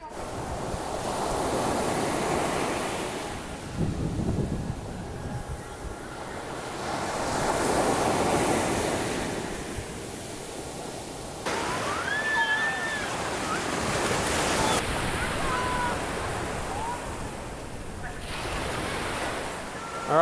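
Ocean surf on a beach in Vietnam, a continuous wash of waves swelling and receding in broad surges, with steady wind buffeting the microphone throughout.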